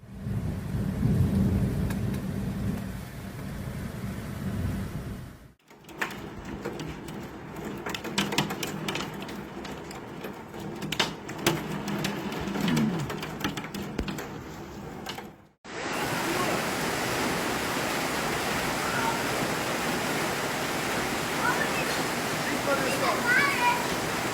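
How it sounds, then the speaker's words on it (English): A severe hailstorm with thunder and rain pounds Tyrol, Austria: a heavy, steady roar of rain and hail with low thunder rumbles, broken by abrupt cuts between scenes, one louder, hissier downpour closing it out. "the severe storms and hailstorms affecting many parts of Tyrol"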